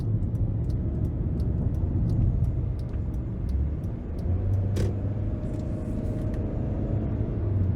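Steady cabin road noise inside a 2014 Hyundai Elantra GT on the move. A constant low rumble of tires and engine, with a faint regular ticking throughout.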